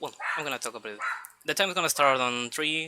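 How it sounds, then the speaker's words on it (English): A dog barking in the background, sharp and repeated, beneath someone speaking close up throughout. "Sorry, I got a little distracted by the barking dog in the background"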